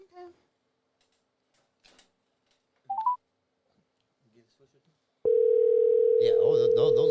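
A telephone call is placed: scattered faint clicks and a short keypad tone, then a steady loud dial tone sounds alone before ringback tones begin, with some talk early on.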